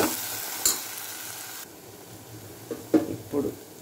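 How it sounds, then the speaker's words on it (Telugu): Masala frying in a pan for a raw black-eyed pea curry, a soft sizzle broken by a few sharp scraping stirs, with a voice briefly speaking over it. "మసాలా బాగా వేగిన తర్వాత"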